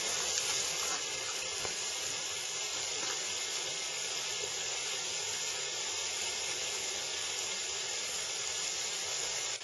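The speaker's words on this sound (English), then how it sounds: "So here's it's boiling and making steam." Steady, broad hiss of steam rising from maple sap at a vigorous boil, continuous and fairly close, with no voices.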